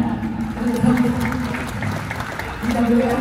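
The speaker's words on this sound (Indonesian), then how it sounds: "Kita berikan tepuk tangan." An audience at a medal bonus ceremony gives steady applause, a continuous mass of clapping that swells near the end, with a voice audible through it.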